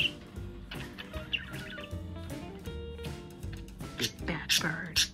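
A pet parrot squawks and chatters indoors in bursts of sharp whistles and raspy calls, mixed with soft vocal sounds and background noise, ending in louder shrill chirps.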